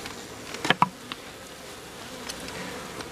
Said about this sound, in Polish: jest tych pszczół w całym wjeździe